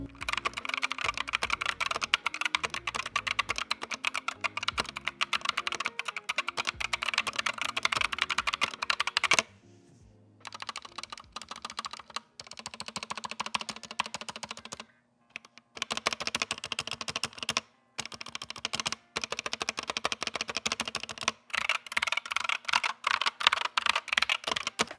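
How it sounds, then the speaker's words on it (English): Fast, loud typing on a GK61 keyboard with optical switches, dense clacking keystrokes in continuous bursts separated by a few short pauses, heard close and alone. "so you guys can hear them for yourselves"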